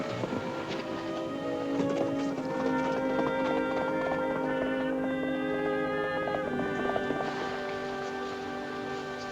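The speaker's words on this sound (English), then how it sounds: "I think I hear a horse on the road." Horse hooves clip-clop along a road in a 1950 western, a steady galloping beat running under loud orchestral music.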